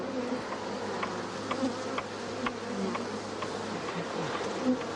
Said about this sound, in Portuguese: Com todo cuidado, as abelhas são transferidas.